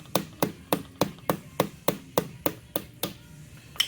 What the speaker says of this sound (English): use a soft hammer, tap on the shaft on the other end